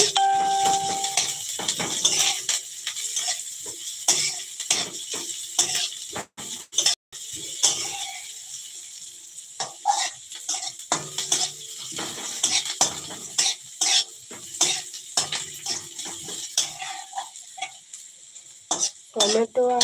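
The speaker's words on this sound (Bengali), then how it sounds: "শুকনো লঙ্কা আর পেঁয়াজ ভাজা করছি" Dried chillies and onions fry in a pan, their sizzle broken up by frequent scraping and clinking as a utensil stirs them, close and fairly loud throughout.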